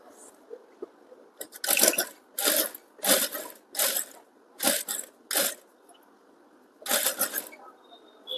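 Sewing machine stitching piping along the princess-cut seams of a blouse, running in a series of short bursts of a few seconds each with brief pauses between them, close and moderately loud.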